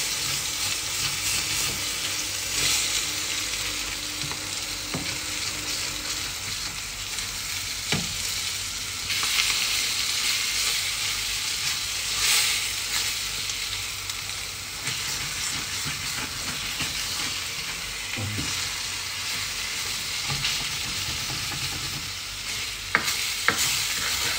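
A tuna egg mixture sizzles and fries in a pan while being stirred, a steady close crackling hiss with occasional scrapes and knocks of the utensil throughout.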